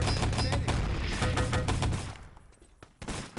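Rapid automatic gunfire in the video game Enemy Territory during a LAN show match, loud dense bursts filling the first two seconds, then fading before a final sharp shot.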